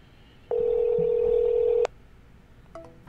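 A single steady telephone ringback tone on an outgoing call, held for just over a second, then cut off into quiet line noise with no talk.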